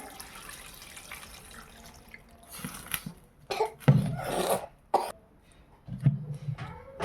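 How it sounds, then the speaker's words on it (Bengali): Water splashes and trickles in uneven bursts into a cooking pot, likely a pressure cooker, while pumpkin and prawns are being cooked; the pouring is close and moderately loud, broken by short pauses. "তারপরে এখানে আমি পরিমাণ মতো পানি দিয়ে দেবো।"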